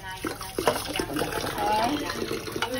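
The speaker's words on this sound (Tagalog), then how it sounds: "Kasalukuyang nililinis ang crab." Crab being washed in water for a home-cooked meal: close splashing, trickling and sloshing with clinks and knocks, irregular and busy throughout.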